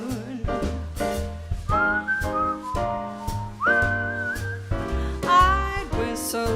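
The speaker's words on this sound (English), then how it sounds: "I'd whistle a little tune for you." A person whistles a short, lilting melody at a jazz show, the clear whistled notes gliding and bending over low, steady bass and piano accompaniment.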